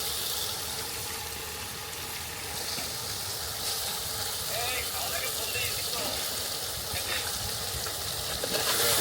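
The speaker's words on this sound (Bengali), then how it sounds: "এবার দিয়ে দেবো ধুয়ে রাখা মাংস" Washed chicken meat going into a hot pot over a village night cookout fire, a dense continuous sizzle and watery hiss that holds steady throughout, loud and close.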